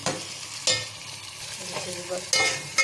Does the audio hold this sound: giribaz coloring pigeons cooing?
no